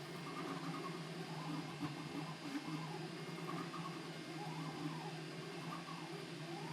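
A FLSUN V400 3D printer runs fast, its stepper motors whirring in steady rising and falling tones over a constant fan hiss, moderately close and with no talk.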